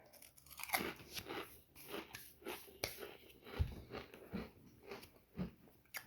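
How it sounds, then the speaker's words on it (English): Someone eats a crunchy snack close to the microphone, with irregular crisp bites and chewing crunches every second or so, fairly quiet, no talking over it. "I'm having myself a snack here"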